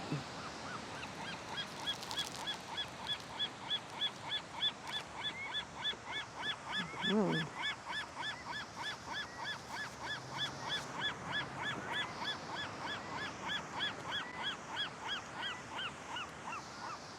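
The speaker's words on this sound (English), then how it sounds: "there's a bunch more seagulls coming this way" A seagull calls repeatedly in a rapid, rhythmic series of harsh squawks, fairly faint and continuous, with other seagulls calling nearby at the Santa Monica seafront.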